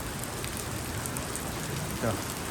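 Rain falls steadily and continuously as a broad, even hiss, fairly close and of moderate level, with a brief louder patch near the end and faint voices in the background.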